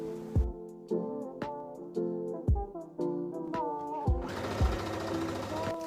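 Sewing machine stitching the seams of a ruched top, with short bursts of rapid stitching broken by mechanical clunks and whirring pauses, close and moderately loud.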